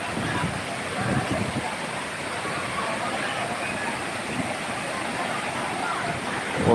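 Water rushes steadily down the mini Courtallam waterfall in Kanyakumari, a constant broad hiss heard from nearby at moderate loudness, with faint background voices.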